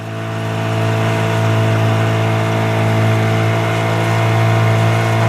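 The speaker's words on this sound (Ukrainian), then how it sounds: "Катер, звісно" A motorboat engine runs steadily at a constant hum with strong low harmonics, loud and close, rising slightly at the start and then holding even throughout, with no voices.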